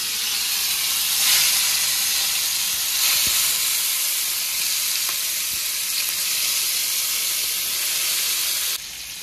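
Pieces of hilsa fish sizzle in hot mustard oil in a pan, a dense, even hiss of frying that stays loud and close throughout before dropping away at the very end.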